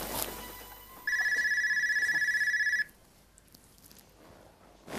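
An electronic telephone ring sounds in one continuous trilling burst of about two seconds, clear and fairly close, set between quiet stretches of low room noise.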